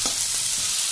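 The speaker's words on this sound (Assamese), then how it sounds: "আৰু এইখিনি মই ইয়াতে ভাজিবলৈ উঠাই দিছোঁ," Ingredients and spices for chicken chilli frying in a pan, a steady broadband sizzle with a few soft stirring knocks, close and continuous through the short moment.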